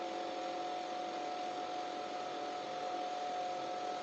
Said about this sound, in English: It looks like, is that a pressure washer?